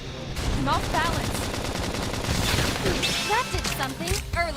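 Gunfire rattles in rapid bursts during a Xenoblade Chronicles X combat scene, mixed into dense game music and effects with someone talking over it.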